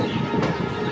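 Howrah–Tarakeswar EMU local train running, a brief steady rumble of rail noise with a short rise in hiss midway, heard alone.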